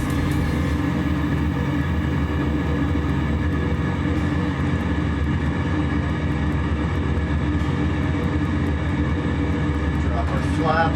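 A Zlin Savage Cub light aircraft in flight over Ireland, making a flyover before landing: a steady droning propeller engine heard from inside the cabin, constant and loud, with voices talking over it.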